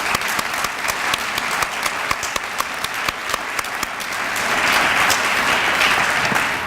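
A crowd at a university retirement celebration gives steady, full applause, with sharp individual claps close by over the sustained clapping of the audience.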